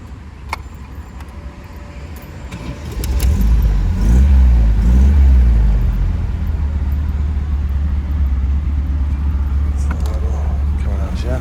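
A 1974 MGB's engine cranks and catches about three seconds in, then revs briefly before settling into a steady, loud idle that runs close by to the end.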